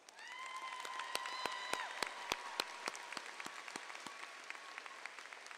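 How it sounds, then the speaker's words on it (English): Audience applause at a 2023 high school graduation ceremony, sustained clapping with distinct sharp claps standing out, mixed with faint whistles and tones, moderately distant. "At this time, let's give them a round of applause."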